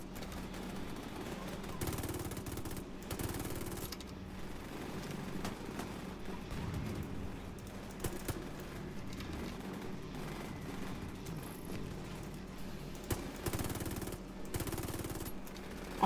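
Automatic gunfire from The Division 2 rattles in dense bursts over a continuous battle din, with a few short pauses between volleys.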